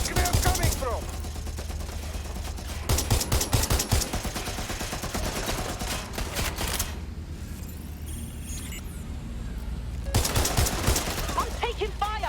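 Heavy automatic gunfire in Watch Dogs: Legion rattles in long, loud bursts, drops to a quieter lull with a few softer shots midway, then surges back into close rapid fire.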